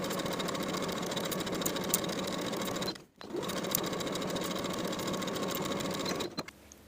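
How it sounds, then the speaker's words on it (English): A sewing machine runs steadily, stitching a seam with a 5/8 inch allowance joining the back midriff to the bodice of a vintage 1960s step-in dress, with one brief pause midway before it stops near the end. "Sew with a 5/8 inch seam allowance."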